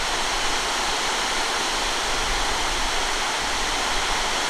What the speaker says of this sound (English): Bandy Creek Falls